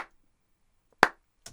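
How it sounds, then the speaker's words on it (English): A single dry hand clap with no room reverb: one sharp, close, short burst that stops almost instantly, with fainter clicks at the start and the end. "So we have dry clap,"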